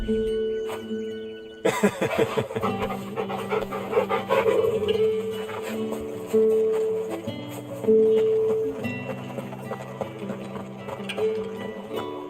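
Dog companion in the Final Fantasy XVI video game panting as it follows along, heard close over a layered game soundtrack with music and ambient effects throughout.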